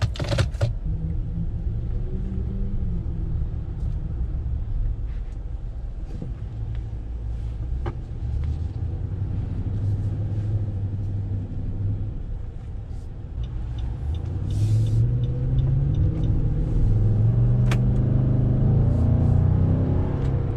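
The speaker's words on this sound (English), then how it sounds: "And the truck fires up." A 2019 Nissan Titan Platinum Reserve pickup truck engine runs as a deep, steady rumble heard from inside the cab. It grows louder and fuller toward the end as the truck pulls away.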